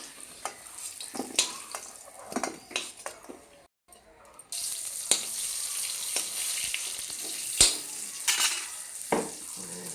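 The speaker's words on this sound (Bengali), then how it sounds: "শাশুড়ি মা এখানে রান্না করছে, আলু ভেজে নিচ্ছে" Potatoes frying in a pan in a home kitchen make a steady sizzle, with stirring clatters and utensil scrapes, then a louder hiss as more food hits the hot pan.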